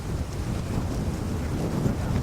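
Strong wind with sustained gusts blasting across the microphone outdoors, a loud continuous rumbling roar with no pauses.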